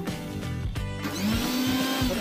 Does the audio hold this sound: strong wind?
no